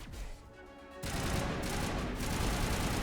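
Sustained gunfire from a Mass Effect Legendary Edition firefight, a dense, continuous burst of rapid shots that starts after a quieter second and stays loud and steady to the end.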